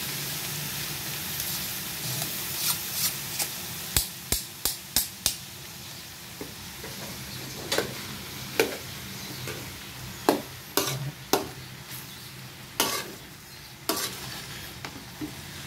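Pork for Filipino bopis sautés with onion and ginger in a large pan, a steady loud sizzle punctuated by sharp scraping and clanking strokes of the stirring utensil at irregular intervals, close up, with no talk.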